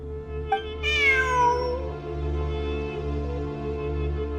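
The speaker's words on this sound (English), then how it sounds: "Look! A cat!" A single cat in the Genshin Impact video game meows once, loud and close, a drawn-out falling cry that trails off over a steady low game background hum.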